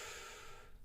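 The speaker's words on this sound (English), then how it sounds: "Deep breath in." A deep inhaled breath during a shoulder rehab exercise for a SLAP tear, a quiet, steady airy rush lasting under a second, heard alone and close.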